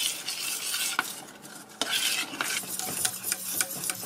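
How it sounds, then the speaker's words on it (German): A spoon stirs a cold praline mixture in a pot, producing continuous close scraping and swishing with occasional sharp clinks against the metal, no voices. "das wird jetzt wieder schön verrührt, genau dasselbe Spiel wie vorher"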